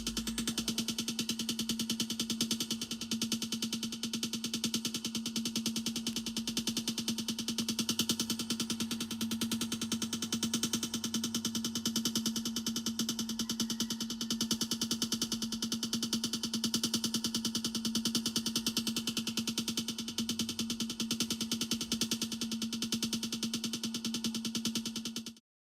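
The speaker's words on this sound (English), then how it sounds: "the sonification, or the translation into sound parameters of a spectra or measurements of a distant galaxy" Sonified spectrum of a distant galaxy: a steady, continuous synthetic drone with a strong sustained low tone and a bright hissing, shimmering upper layer, holding at an even level for the whole stretch with no voices.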